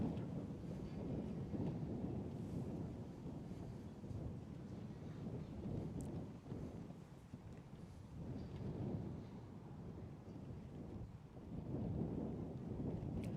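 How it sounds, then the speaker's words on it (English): Strong wind buffets an outdoor karting track in Larkhall on a stormy day, a continuous low rumbling roar with gusty surges that fills the whole stretch. "as you can hear, it is a very windy day as well out there"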